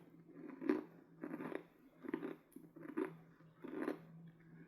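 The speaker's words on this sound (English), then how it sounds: "With something really crunchy like this, I tend to have to break it up with a little bit of extra force." Hard crunchy snacks such as peanuts, corn nuts, pork rinds or ice are crushed by someone chewing with dentures: five distinct, forceful crunches in a steady rhythm, close and fairly quiet, with no talking.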